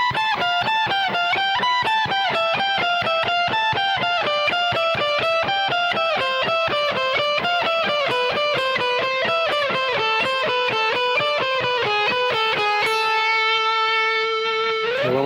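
Distorted electric guitar playing a fast classical-flavoured alternate-picking lick, an unbroken stream of evenly picked notes that climb and fall for a long stretch, then a final held note rings out; loud, close and with no talking.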